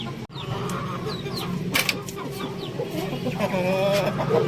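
Aseel chickens clucking and an Aseel rooster calling nearby on a rooftop farm over steady background noise, with a brief sharp knock near the start.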